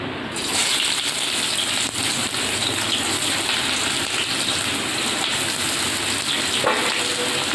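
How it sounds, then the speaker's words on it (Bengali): Chopped onions fry in a pan for a wedding-style mutton curry, giving a loud, dense, steady sizzle like heavy rain that runs without a break and with no talk over it. "পেঁয়াজটাকে আমি ভালো করে ভেজে নেব"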